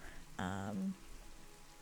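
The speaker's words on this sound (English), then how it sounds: "I hope they don't mind the rain." Rain falls in the Planet Zoo video game as a soft, steady hiss throughout, briefly overlaid midway by a short, clear tonal call.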